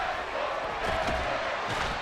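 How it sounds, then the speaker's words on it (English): A stadium crowd in the Madden NFL 24 football video game roars continuously with a dense, swelling wash of cheering and shouting, close and full. "That just means this crowd's going to get even louder."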